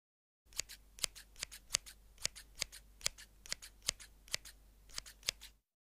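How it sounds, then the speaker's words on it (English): Scissors snip through a dress in a rapid, uneven series of about twenty crisp, close cuts over roughly five seconds, with no talking. "No, come on, Anastasia, let's cut her dress."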